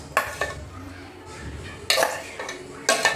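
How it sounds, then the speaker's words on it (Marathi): A spoon scrapes and knocks against a steel mixer jar, emptying ground spice paste for a homemade drumstick (shevaga sheng) bhaji into a pan; several sharp metallic clinks and scrapes, close and moderately loud. "पूर्णपणे मिक्सीच्या भांड्यांमधून ह्याच्यामध्ये काढून घ्या."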